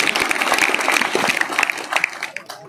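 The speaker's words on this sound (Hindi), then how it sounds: "जोरदार तालियां उन तक पहुंचे।" Loud, dense applause from the audience at a large kavi sammelan poetry gathering in Udaipurwati, many hands clapping steadily close by and tapering slightly toward the end.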